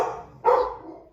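Dogs at home bark, a fading bark heard first and then one sharp, loud, close bark that trails off.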